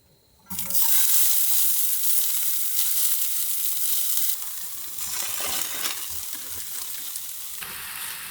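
Kotechan beef offal hits a hot pan and breaks into a loud, steady sizzle that continues throughout, easing slightly midway as the pieces are stirred and tossed, with no talking over it.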